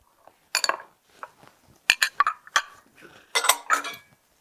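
A scallop pan is handled on a kitchen stovetop before searing scallops, giving a series of sharp metallic clanks and scrapes in irregular bursts, close and fairly quiet, with no talking.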